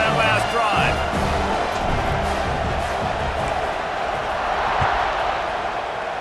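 Stadium crowd noise in the EA Sports College Football 26 video game, a loud continuous roar with scattered cheers and whoops, while a commentator talks over it.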